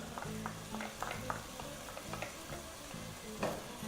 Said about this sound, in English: I'm just going to go in with my red onions